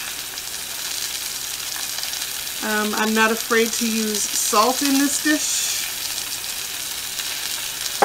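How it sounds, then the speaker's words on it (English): Fresh garden zucchini sautéing in a single pot, a steady broad sizzle running throughout while a person speaks over it. "Here our zucchini is sizzling away."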